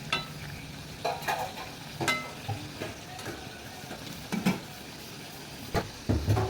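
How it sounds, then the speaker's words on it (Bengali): Egg and potato stuffed pitha deep fry in oil, a continuous soft sizzle with occasional bubbling pops and a few utensil clinks, close and without talk. "এইভাবে সব ডোবা তেলে ভেজে নিয়ে লাল লাল করে তুলে নিতে হবে।"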